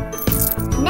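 A cartoon clean-up game plays a quick bright jingle as trash is thrown away, a short tinkling chime with a rising sweep at the end, close and clear.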